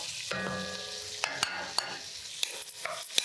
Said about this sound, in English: I'm actually gonna go ahead and add in my onion and peppers.